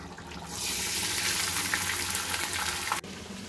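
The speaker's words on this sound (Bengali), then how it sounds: "ঘিটা গরম হয়ে গেছে, এর মধ্যে আমি চালটা দিয়ে দেবো" Rice dropped into hot ghee in a wok, breaking into a loud, close, hissing sizzle after a brief quieter moment, then holding steady with a small clatter near the end.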